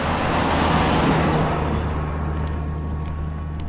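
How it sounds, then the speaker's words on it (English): Big cars passing on a road near a Maasai village in Kenya, a loud, close rushing roar that swells early and slowly fades as the vehicles move away, with no talk. "Just see the big cars that pass here, man."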